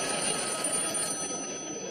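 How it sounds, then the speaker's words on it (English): A telephone bell rings in a room, a continuous trilling ring heard fairly clearly for a couple of seconds without speech. "I just figured if I opened my mouth that the phone would start ringing"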